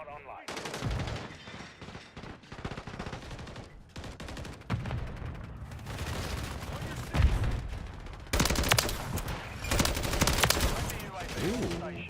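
Gunfire in the Modern Warfare Zombies video game: repeated loud bursts of automatic weapon fire, with pauses between volleys and a few sharper single shots.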